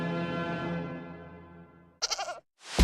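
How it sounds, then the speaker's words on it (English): A goat lets out one long, loud wavering bleat that slowly fades, followed by brief bursts of other sound. "We have a goat here."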